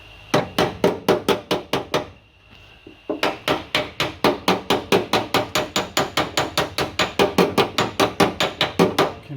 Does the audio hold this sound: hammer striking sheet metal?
yes